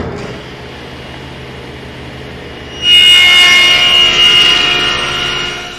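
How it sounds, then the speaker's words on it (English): A table saw making a final rip cut through wood spline material with the blade lowered, a low idling hum that rises into a loud, bright whine as the blade bites into the wood and then slowly fades. "I've lowered my saw blade and moved my rip fence over, and now I can take that final cut."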